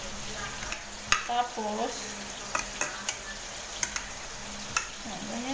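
Chopped onion being stirred into a fish mixture for a fish omelette, with soft clicks and scraping of a utensil against a bowl, a few sharper taps, and a brief word spoken over it.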